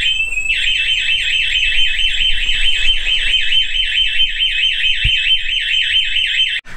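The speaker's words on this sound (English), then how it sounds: "our system even came with a panic alarm" An RV security system's panic alarm blares loud and close, a rapid warbling electronic siren repeating steadily for several seconds before cutting off abruptly.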